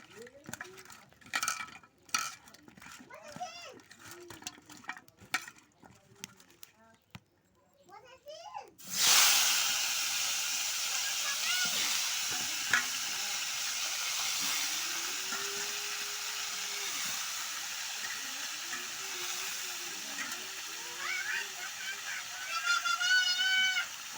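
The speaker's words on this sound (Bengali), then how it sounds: "সবজিগুলোকে একটু ভেজে নিব হালকা করে" Bitter gourd and drumstick pieces are added to hot oil and lightly fried, starting as a sudden broad sizzle partway through after some clattering and talk, then holding steady while a voice continues over it.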